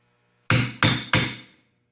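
Three sharp hammer blows drive a metal punch through a leather belt, each strike loud and close with a short ringing decay, spaced evenly about a third of a second apart, with no talking.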